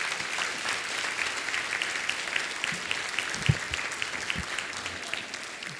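Audience applause for a panel at a mental health summit, a steady wash of many hands clapping throughout, moderately loud and fairly distant, with a few sharper claps standing out near the end.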